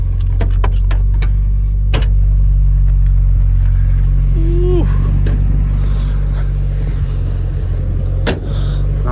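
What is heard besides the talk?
Datsun 620 truck engine driving after engine swap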